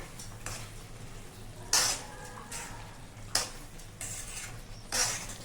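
Goat liver curry being stirred with salt in a pan, several distinct scraping clinks of a spoon against the metal at uneven intervals over a soft frying sizzle, close and without talk.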